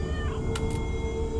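A cat gives a short, faint meow, a single brief cry over a steady low background hum.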